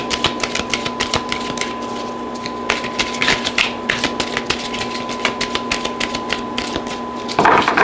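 Tarot cards being shuffled during a reading, a steady run of crisp, close taps and riffles over a faint constant hum, ending in a louder burst of handling.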